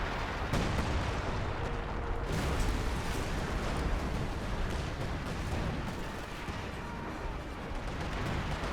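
Artillery guns firing in the strategy game Company of Heroes 2 make a steady, dense rumble of distant booms and blasts that runs without pause and sits fairly low in level.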